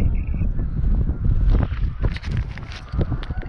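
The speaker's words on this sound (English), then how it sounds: "Okay, I know the wind is bad" Wind buffets the microphone on an open lake during ice fishing, a steady, loud low rumble with gusting swells and faint scuffing underneath.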